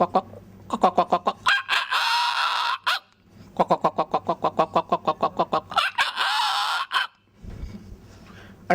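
A man mimics a chicken with his voice, giving rapid bursts of clucking that rise into loud, drawn-out crowing calls, repeated twice with a brief pause between.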